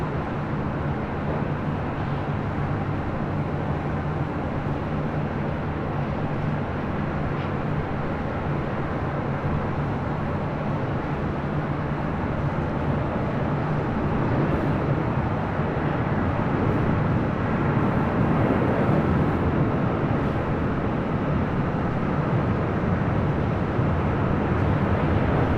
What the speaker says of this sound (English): Beautiful takeoff into the sunset.